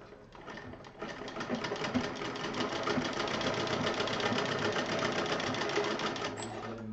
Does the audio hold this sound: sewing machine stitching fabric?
yes